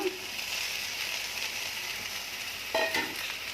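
Shrimp dropped into a hot pan of cooked-down taro greens (kochu shak), giving a steady close sizzle and frying hiss with a brief louder burst of crackle near the end.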